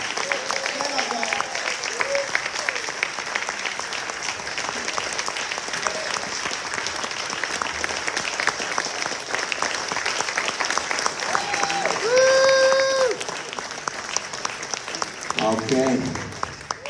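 An audience at a big band concert keeps clapping steadily for the band, with cheers and shouts that swell near the end and voices calling out over the applause.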